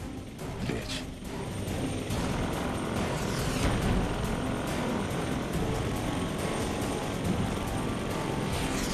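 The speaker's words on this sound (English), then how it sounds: "Now don't forget the rest of those choppers." Helicopters in the video game Prototype 2, with a steady loud rotor and engine roar running throughout, dense mechanical noise filling the mix with occasional faint background sounds.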